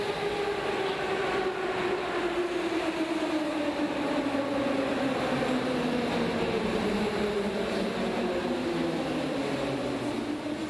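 A Moscow metro train travels through the underground, giving a continuous loud rumble with a slowly falling whine and rattling wheels, with no voices over it.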